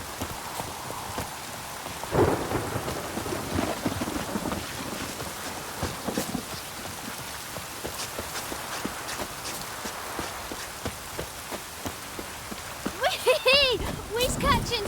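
Steady rain in The Witcher 3, a constant hiss of falling water with occasional heavier patters and a dull rumble, a short voice cutting in near the end.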